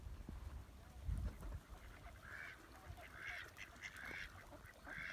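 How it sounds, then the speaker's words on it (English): Ducks on a park pond give several short quacks and honks at moderate distance, scattered over soft outdoor background noise with a few handling thumps nearby. "Let's go see the duckies."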